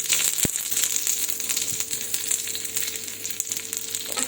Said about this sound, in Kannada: ಈಗ ಬೆಳ್ಳುಳ್ಳಿ ಕರಿಬೇವು ಹಾಕಿ ಒಂಚೂರು ಎಣ್ಣೆ ಹಾಕೋಣ